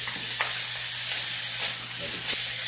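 Fish fries in a pan with a steady sizzling crackle. A few sharp scrapes and knocks mark it being turned over, close and moderately loud, with no talking over it.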